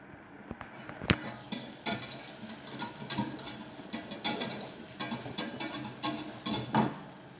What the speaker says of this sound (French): Là, on va fondre l'échalote.